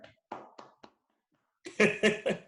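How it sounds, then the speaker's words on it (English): Hand clapping during a beer tasting session: a few soft, scattered claps and snaps at first, then a short burst of three louder, closer claps after a brief pause. "Who's clapping?"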